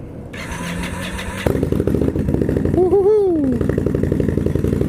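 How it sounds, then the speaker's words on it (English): 2016 Indian Scout motorcycle with a Trask 2-in-1 exhaust pipe, its engine catching and then running loud and close with a rapid burbling exhaust note while riding, plus a short rising whine partway through. "That Trask 2-in-1 pipe sounds like a top fuel dragster."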